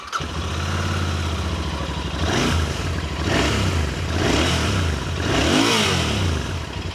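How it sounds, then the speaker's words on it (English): A Royal Enfield Continental GT 650 parallel-twin engine revs in repeated rising bursts over a steady rumbling idle, loud and close, with no talking. "Let me make you hear the exhaust note right away"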